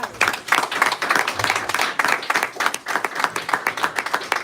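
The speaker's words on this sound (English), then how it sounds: "keep on clapping, keep on clapping" Audience at a poetry open mic claps and applauds after a performance, a dense patter of many hands with uneven surges, fairly close and steady throughout.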